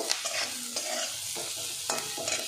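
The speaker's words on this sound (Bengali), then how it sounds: "এইবার সবজি কটা দিয়ে আবার একসাথে ভেজে নেব।" Vegetables frying with curry leaves and ginger while making poha, a steady close sizzle with repeated stirring scrapes in the pan.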